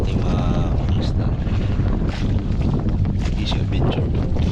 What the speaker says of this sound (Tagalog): Malakas yung hangin sa alon.